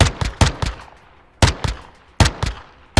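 Sharp, loud gunshots from an H&K MP5A5 in Call of Duty Modern Warfare II, fired in quick bursts of three or four with short pauses between, close and alone.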